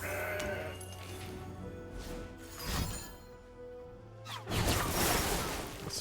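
A goat bleats from a card in the Legends of Runeterra card game. There are several short wavering bleats, with whooshing, crashing game effects between them and over them.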